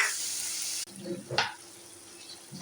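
Spice paste of ginger and cumin with salt and water sizzles in a pan, a loud hiss that cuts off abruptly and is followed by a short scrape and stir and then quieter bubbling.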